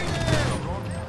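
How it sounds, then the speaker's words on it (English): Bursts of gunfire during a GTA Online prison break plane setup mission, with rapid shots and blasts crowding together while voices talk over the din. "all I hear is gunfire."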